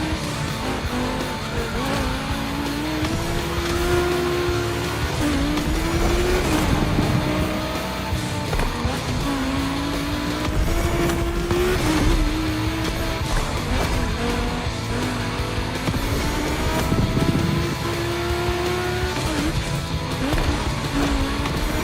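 Volkswagen race cars on a track in The Crew Motorfest, engines revving up and down through gear changes with rising whine, tires squealing as they skid through corners, loud and continuous, no talking.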